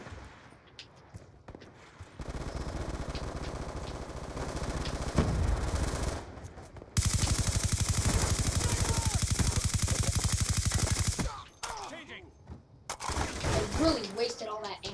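Sustained automatic gunfire from a team deathmatch in Call of Duty Black Ops 2, loud rapid bursts that come in waves and fill most of the span, with brief lulls between and speech partly mixed in.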